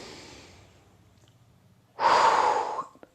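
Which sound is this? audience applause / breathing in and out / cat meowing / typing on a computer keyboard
breathing in and out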